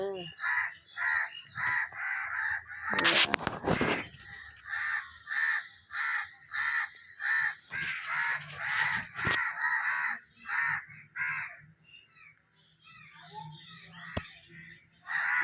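Crows caw repeatedly in rapid bursts, loud and close, mobbing a frightened bird clinging to a basket, with a few brief thumps and a short voice in between.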